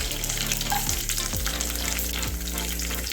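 Mustard seeds, curry leaves and garlic fry in hot oil for a mango pickle, giving a loud continuous sizzle and crackle up close, with occasional stirring scrapes and no voices.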